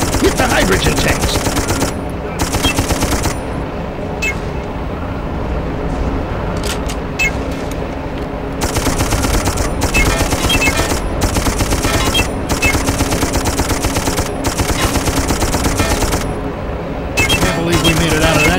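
Dense, continuous gunfire from the Darkest of Days video game, with loud rapid automatic bursts and repeated shots over a constant battle roar, heard with no clear talk over it.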